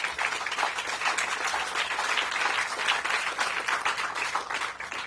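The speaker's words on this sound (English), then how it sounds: "Please give them a round of applause as well" A crowd at an outdoor groundbreaking ceremony for recreational fields on the RFK Stadium campus gives a steady round of applause, moderately distant and sustained for several seconds with no talking.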